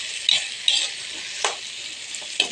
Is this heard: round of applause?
no